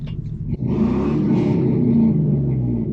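Engine of a 1986 Chevrolet C10 truck with an LS swap, driving under its own power: a loud, close, steady rumble after a brief knock, with no talking.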